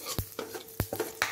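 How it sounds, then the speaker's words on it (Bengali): Whole spices for a Bengali tempering fry in ghee and oil in a pan: bay leaf, dried chilli, cumin, cracked cardamom, cinnamon and a clove. A soft sizzle runs under a few distinct scraping stirs close by. "এরপর আমি ফোড়নটা ভালোভাবে ভেজে নেব।"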